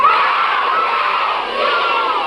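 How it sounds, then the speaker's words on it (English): A group of children shouting out loudly together in unison, a sustained crowd-like yell at a children's reading show, close and loud with no separate talk. "yell out, "Hey, Dave D," really loud"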